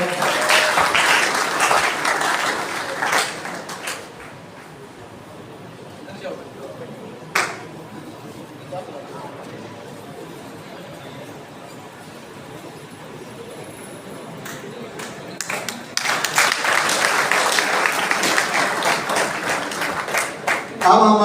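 Audience of students applauding at a school event, clapping in loud bursts at the start and end with a quieter stretch between.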